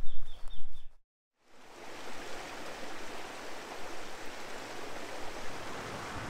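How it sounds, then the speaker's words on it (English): The Cotter River running down from the Cotter Dam, a steady broadband rush of flowing water that starts after a brief gap at the beginning, close and continuous with no talk. "this is the Cotter River, and that's coming down from the Cotter Dam"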